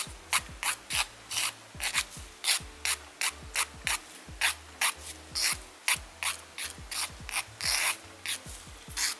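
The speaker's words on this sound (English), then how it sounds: "I'm just doing the tiniest amount of filing, making sure not to actually reshape the nail at all" Short rasping strokes of a hand nail file against the edge of a press-on nail, close and fairly quiet, repeating in a steady rhythm of about two to three strokes per second with no talking.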